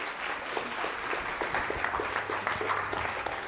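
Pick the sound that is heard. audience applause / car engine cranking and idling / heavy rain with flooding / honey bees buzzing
audience applause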